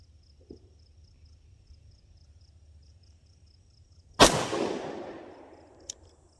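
A single sharp, loud shot from a prototype pistol fired without its magazine during range function testing, with a long echoing decay afterward, a faint click before it, and crickets chirping steadily in the background.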